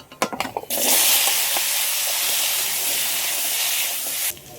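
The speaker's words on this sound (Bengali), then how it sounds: "মাছ ভাজা তেলের মধ্যে কচুর গাঁটি আর আলুগুলো ভেজে নেব" Chunks of taro and potato drop into hot oil left from frying fish, bursting into a loud, continuous close hiss of frying that runs for several seconds after a few clattering knocks of the pieces going in, then cuts off abruptly.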